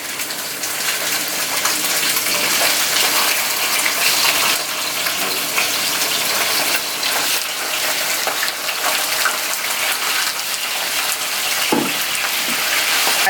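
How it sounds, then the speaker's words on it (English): Fish for Jamaican brown stew fish going into hot oil over medium heat, giving a loud, steady, close hiss and crackle of frying that carries on without a break. "So you just want to go ahead and just put your fish in nice and slow."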